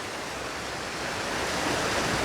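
Water rushing steadily at Wildcat Creek waterfall on a trail in Pennsylvania, a dense, continuous roar that swells slightly toward the end, with no voices.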